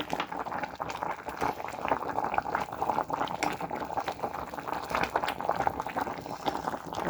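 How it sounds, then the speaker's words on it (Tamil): Chicken soup with cabbage and broccoli boils steadily in a pot, giving a continuous close bubbling and gurgling with no pause throughout. "பாருங்கள் கோசுலவை நல்லா கொதிச்சு கொண்டு இருக்குது"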